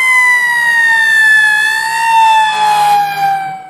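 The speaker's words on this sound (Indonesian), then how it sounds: "kita menemukan mainan truk pemadam kebakaran atau fire truck" A toy fire truck siren wails loudly and close, its electronic tone sliding slowly up and down in a continuous cycle.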